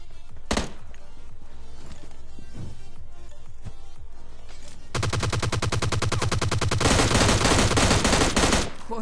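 M16 gunfire in PUBG Lite: scattered single shots give way to sustained loud rapid automatic bursts that continue through the second half, with no talk over it.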